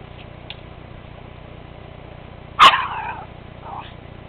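A dog at a river gives one sharp, close bark that trails into a short yelping whine, followed by a fainter yip against quiet outdoor background noise.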